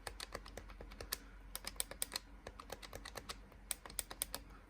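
Buttons on a Powkiddy X17 handheld game console click in rapid, uneven bursts close up, sharp and plasticky, with no voice over them.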